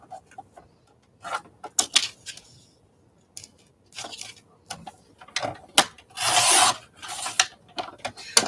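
Scissors trimming paper around a magazine cutout, a run of close, crisp snips and rasping cuts in irregular bursts with short pauses between, one longer sustained cutting stretch near the end.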